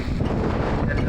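Strong wind buffeting a microphone at a Matheran hilltop viewpoint, a loud continuous low roar with no break.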